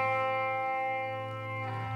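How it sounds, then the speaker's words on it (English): A Dark World reverb pedal in auto freeze mode sustains an infinite reverb tone, a steady, dense harmonic drone that holds evenly throughout with only a slight shift near the end. "And it's like an auto freeze kind of a thing, infinite reverb sort of a dealy."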